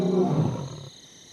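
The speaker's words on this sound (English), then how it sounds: "the lions square off with their roars" A wild lion's deep roar, loud and close, a single heavy rumbling call that swells, then cuts off and fades within about a second.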